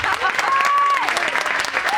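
A hall audience at a college event claps steadily and densely for two seconds, with a faint tone and a little voice mixed in.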